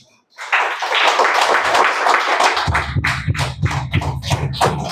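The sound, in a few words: audience clapping hands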